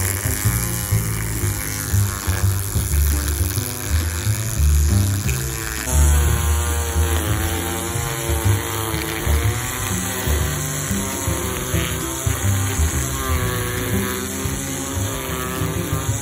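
A Ryobi 18V ONE+ string trimmer (model P2008), switched to edger mode, runs steadily along an overgrown driveway edge, giving a loud continuous motor whine with a shift in pitch partway through.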